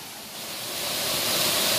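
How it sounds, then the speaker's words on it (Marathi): A waterfall in the Konkan region, a broad rushing roar that swells and grows louder as the listener draws closer, with no voices. "तुमका दिसत असत तो बघा धबधबा"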